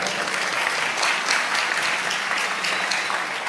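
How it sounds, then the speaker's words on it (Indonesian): Audience applause at a religious lecture gathering, a loud, dense burst of many hands clapping that stays steady for several seconds. "Tepuk tangan."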